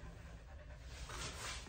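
A rescue Corgi pants rapidly during a bath in a tub, quick soft breaths close up under a steady wash of running water, faint overall.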